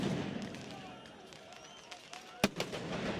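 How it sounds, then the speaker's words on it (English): Fireworks launched at the prime minister's office during an Albanian opposition protest over corruption allegations, heard as a sharp bang and a few crackling pops amid a noisy outdoor crowd din. "These images show fireworks being launched at the office of Edi Rama, the country's prime minister."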